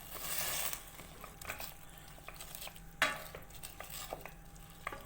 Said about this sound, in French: Et je vais mélanger tout ça.